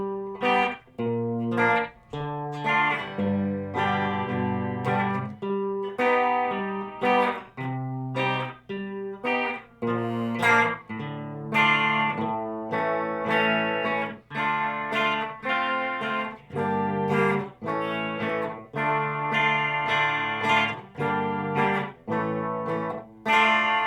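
Electric guitar with effects plays the verse of a song, a steady run of strummed and picked chords alone, clear and close for about twenty-four seconds.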